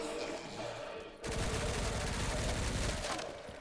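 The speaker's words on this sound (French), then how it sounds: "Maintenant il tire." Enemy gunfire in the survival-horror game Resident Evil Requiem, set in Raccoon City: after a quieter opening, a dense, loud burst of rapid shots and impacts rolls on for a few seconds in a continuous volley.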